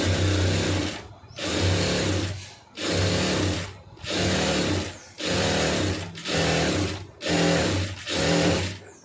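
Sewing machine stitching a puff sleeve onto a lined blouse, a loud close whirring motor running in eight even bursts of about a second each, with brief pauses between them.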